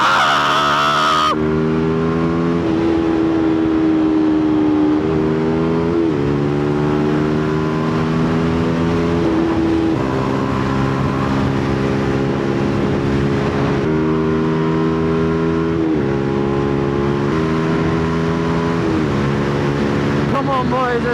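A motorbike engine on a ride revs and climbs through repeated accelerations, loud and close, its pitch rising and dropping with each gear change over constant wind rumble.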